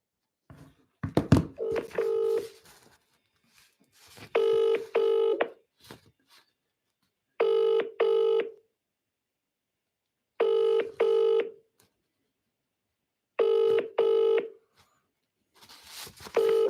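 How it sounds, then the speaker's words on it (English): A telephone call is dialed with a few quick clicks and tones, then the ringing tone repeats in paired electronic bursts at regular intervals of about three seconds, clear and isolated against silence. "Okay, let's ring her."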